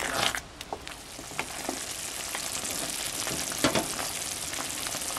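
Glutinous rice simmering in coconut milk for bibingkang malagkit, stirred until the milk dries, gives a steady close sizzle with scattered scraping stirs and small pops, no voices.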